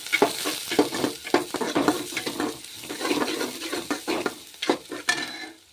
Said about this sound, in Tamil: இப்போ நல்லா வந்து வதக்கி விட்டுலாம்